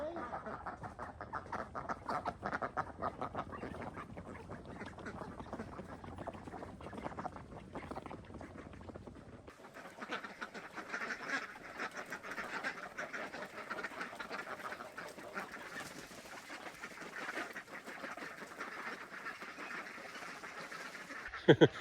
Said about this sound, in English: The young ducks wouldn't come out with me standing there.